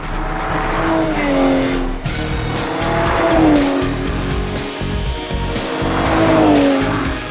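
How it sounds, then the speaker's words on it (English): An Aston Martin Vanquish driven hard, its engine roaring and rising in pitch through repeated surges while the tires squeal and skid in long sweeping bursts, loud and close. "this is the closest thing to Bond's current ride, the Aston Martin Vanquish"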